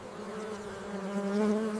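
Inside a honeybee hive, a mass of bees drones in a continuous close buzz, steady and slightly swelling in loudness, heard alone.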